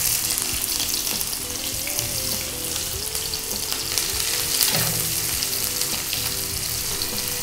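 Onions hiss and sizzle steadily in plenty of hot oil for a crab curry, a loud close frying sound with occasional stirring scrapes and no talk.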